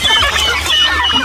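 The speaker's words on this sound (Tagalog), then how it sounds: "Ayan yung mga manok natin" Farm chickens, once incubator-hatched, clucking excitedly just after being let out of their coop, a dense overlapping chorus close by and loud.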